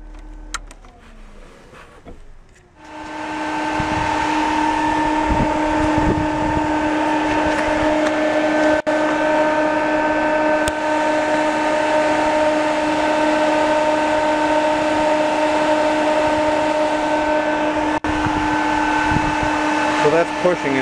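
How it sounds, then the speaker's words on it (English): An auxiliary electric cooling fan in a 1983 Mercury LN7 switches on after a brief click, then runs as a steady, loud whirring hum with a constant tonal whine that holds for nearly twenty seconds. "you might be able to hear the fan come on if I flip this on"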